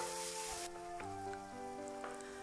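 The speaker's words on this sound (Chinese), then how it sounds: "再把蒜末也加进来，翻炒出蒜香味。" Minced garlic stir-fried with minced pork and soybean paste in a hot pan gives a soft, steady sizzle, faint and continuous with a few light stirring scrapes and no voices.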